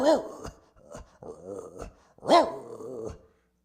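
A man imitates a dog with his voice, giving a growl and a short bark, then a second growling bark after a pause, close and clear with no other talk.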